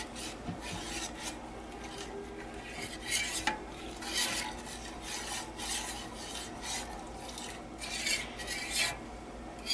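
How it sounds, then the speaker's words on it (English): A spoon stirs hot cocoa with cocoa nibs in a cup, making repeated scraping and rubbing strokes with light clinks, close and steady. "And I'm going to give this a quick stir"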